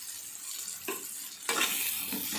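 Onions and brinjal sizzling as they fry in a pan, a continuous close hiss that swells louder partway through as the pieces are stirred.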